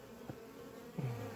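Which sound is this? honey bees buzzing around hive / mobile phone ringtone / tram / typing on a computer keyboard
honey bees buzzing around hive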